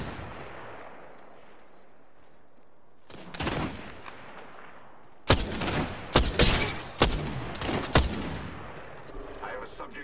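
Gunfire in the video game Apex Legends, with quiet background sound giving way to a dense burst of loud, sharp shots and impacts in the second half.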